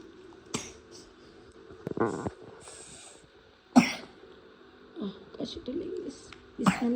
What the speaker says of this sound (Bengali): কাশি হচ্ছে তোমার